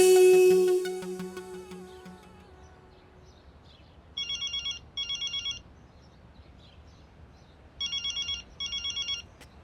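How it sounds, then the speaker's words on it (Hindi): A telephone rings in two pairs of electronic trills separated by a pause, after a loud tonal burst fades out at the start. "किसी का फोन आ रहा है, देखिए"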